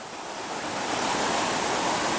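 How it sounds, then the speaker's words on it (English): A river flows in a steady, broad rushing wash that swells slightly, close and fairly loud, with no voices. "Another day at the river."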